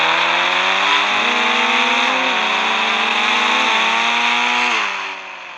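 A green Hulk vehicle's engine in a video game drones loudly and continuously, its pitch stepping up and down as it revs, then fades slightly near the end.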